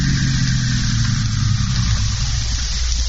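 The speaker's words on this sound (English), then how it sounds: "Now there's a car out there." A car engine runs outside, a steady low idling rumble under a constant hiss, heard in an old-time radio mystery drama.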